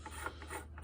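Metal multi-tool works a rifle barrel nut as it is torqued down, giving faint, continuous scraping and ratcheting mechanical rubs close by with no voices.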